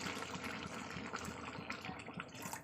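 Hot water poured into a pot of egg and cucumber curry, a short gushing, bubbling splash of liquid close by, continuous for a couple of seconds.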